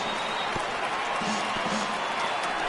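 A baseball stadium crowd of over 29,000 at an Indians home game against the A's rises and cheers, a steady broadband roar of voices and clapping under a commentator's voice.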